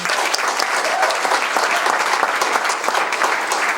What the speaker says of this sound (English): A round of applause for Reverend Sharpton.